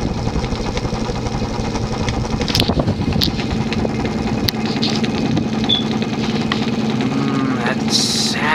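An Emerson (Sears) 52-inch friction-drive ceiling fan from the late 1970s runs with a steady, close mechanical hum and whir, broken by a few faint clicks and ticks.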